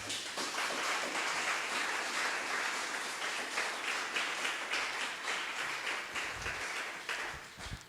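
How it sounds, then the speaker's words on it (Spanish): A church congregation applauding together, a dense steady wash of many hands clapping that fades out toward the end. "Dale otro aplauso al Señor"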